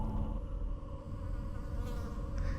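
Insect-like creatures in the video game Stasis give off a steady, low, droning buzz that holds without a break at a modest level.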